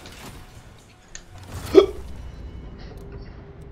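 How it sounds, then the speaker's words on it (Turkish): A single short, sharp hiccup sounds close by over a quiet background hum, preceded by a faint click and followed by a low steady drone. "Nasıl bir hıçkırıktı o ya?"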